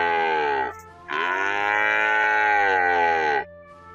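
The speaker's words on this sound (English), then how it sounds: "the adult female of a cattle family that is kept on a farm to produce milk or meat" An adult dairy cow on a farm gives two loud, close, drawn-out moos, the first short and the second long and sustained, with no other sounds.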